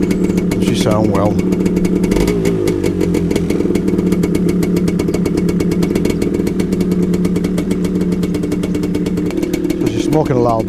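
A KTM, Yamaha, Suzuki, BMW or Honda two-stroke motorcycle engine idles loudly and steadily up close, smoking slightly, with a rapid, even, buzzy firing rhythm running through the whole stretch and a voice speaking over it.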